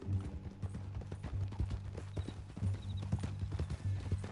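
Horse hooves clip-clop steadily in Red Dead Redemption 2, a regular walking rhythm close by and moderately loud, with game sounds faintly underneath.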